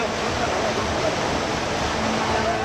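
Monsoon floodwater from heavy rain rushes in a loud, dense, continuous roar, steady and close with no break or voices.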